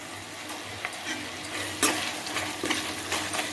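Tomatoes and curry leaves sauté in a pan for Kongu-style kollu rice, giving a steady low sizzle broken by several sharp scrapes and clinks of a stirring spoon, close and fairly quiet, with no voices.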